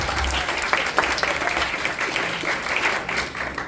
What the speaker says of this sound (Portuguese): Palmas pra Deus também,